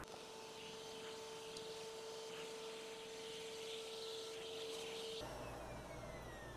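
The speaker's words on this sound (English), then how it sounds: "So let's go ahead and vacuum some of this off." A vacuum cleaner runs over a dried, hairy Halloween monster-potion craft, giving a steady, close droning whine for about five seconds before its tone shifts to a rougher rumble.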